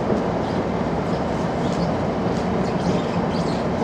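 A train rumbles steadily nearby in a dense, even roar, heard from on board or close to the track, with faint rhythmic rattling riding over the constant low noise.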